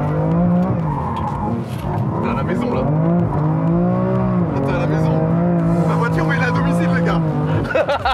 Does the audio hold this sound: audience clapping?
no